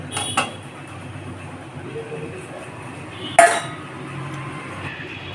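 A spatula stirs egg fried rice with fried chicken pieces in a metal pan, giving a couple of sharp metallic clinks amid soft scraping over a steady low hum, with no clear talking.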